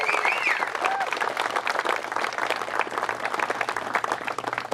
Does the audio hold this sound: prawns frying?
no